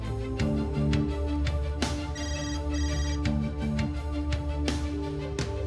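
A phone ringtone plays over and over, a repeating electronic melody ringing on without being picked up, moderately loud, with no speech.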